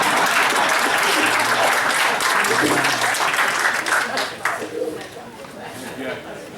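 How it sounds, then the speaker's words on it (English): An audience at a cooperative's 87th annual meeting breaks into loud, sustained applause that thins out after a few seconds, leaving scattered claps and murmured chatter. "No applause for the lawyer?"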